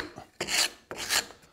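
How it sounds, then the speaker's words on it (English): Modeler's rasp filing wood down toward a marked line, two distinct rasping strokes about half a second apart, close and fairly loud, with no talking. "I'm going to switch to a modeler's rasp"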